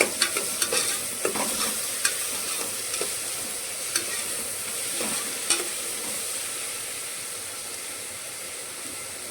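Onions frying with salt in a pan, giving a steady close sizzle punctuated by sharp spatula clicks and scrapes while being stirred, gradually easing off.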